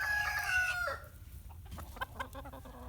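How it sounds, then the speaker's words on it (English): Buff Orpington chickens cluck and crow in a snowy yard, opening with a near, clear rooster crow that tapers off into a few softer, scattered clucks. "So these are my Buff Orpingtons."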